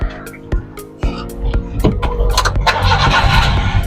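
A Suzuki DA63 4WD mini truck, a Japan-surplus unit, starts up: a few short starter clicks, then the engine catches and settles into a steady idle, close and fairly loud.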